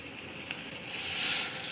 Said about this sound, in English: this beautiful cooking that's going on with all the liquid that's like sort of steaming it in the thing